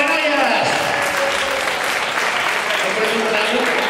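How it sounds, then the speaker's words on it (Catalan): Applause from a crowd at a neighbourhood street festival, a steady dense patter of clapping that fills the whole stretch at a fairly loud level, with voices mixed in underneath. "Un aplaudiment per elles"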